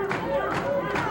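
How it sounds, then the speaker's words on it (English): A wrestling crowd at a Stampede Wrestling match in Canada makes a continuous roar of cheers and shouts, with some scattered clapping, under a commentator's voice. "Crowd is trying to exhort through various sounds"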